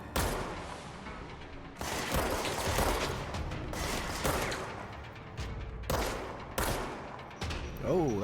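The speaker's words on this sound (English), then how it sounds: "Oh, that's a grenade." A grenade blast in the video game Control sounds among loud, dense bursts of game combat noise that crash in repeatedly across the moment, with a brief tonal sweep near the end.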